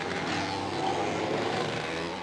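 Racing go-karts at Shennington circuit, around 1990, with no gearbox or clutch, scream flat out through a tight 180-degree bend. Their loud, raspy two-stroke engine noise stays continuous and dense, with no talking.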